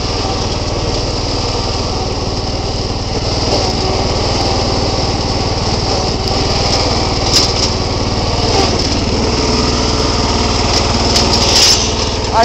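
A Bolens garden tractor engine runs steadily and loud up close, a continuous buzzing drone with small surges as the tractor pushes through snow with wheel weights and chains.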